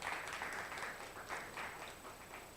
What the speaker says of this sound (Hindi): आज डीडी के लिए एक ज़ोरदार तालियां हम दे देंगे।